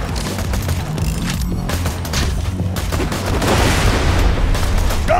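Dense, continuous bursts of gunfire from the video game Borderlands 2 pile up for the whole stretch, with rapid shots and booms growing louder toward the end and no talk.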